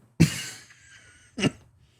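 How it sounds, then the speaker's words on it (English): Two sharp coughs about a second apart, the first strong and raspy with a short trailing wheeze, the second briefer, close up with no talking. "this cough it's going away, but it's still there a little bit"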